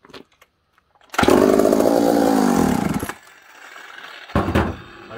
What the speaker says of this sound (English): It's like a saw that's gonna start like that.